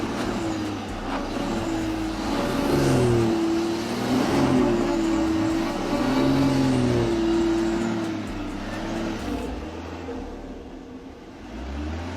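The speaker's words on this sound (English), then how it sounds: "The X6 has reached the complex part of the climb. Listen to the engine sound." A BMW X6 engine strains up a steep off-road slope, revving in rising and falling surges with wheels slipping, heard moderately close and steady for several seconds before easing off.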